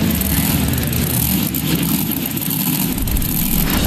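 Monster truck engine idling in the BeamNG Drive racing game, a steady loud low rumble that holds at one level with no revving throughout.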